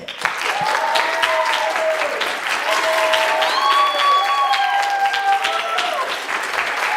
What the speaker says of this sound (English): Clap your hands if you want them to stay.